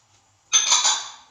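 Handful of peas tipped into a cooking pot with oil, onion and potatoes for aloo matar, a single close rattling, clattering burst that fades over about a second after a quiet start.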